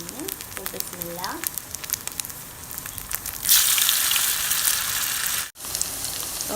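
A second batch of pan kebab dropped into hot frying oil: crackling spatter builds to a loud, dense sizzle that holds steady, with a brief break near the end, close and unvoiced.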